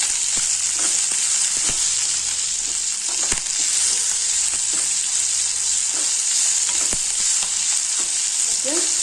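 Curry leaves, onion, ginger and garlic sautéed with salt in a pan give a steady, close sizzle with occasional scraping stirs of the spoon, and no one speaks.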